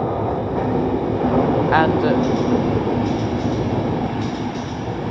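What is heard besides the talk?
British Rail Class 350 trains passing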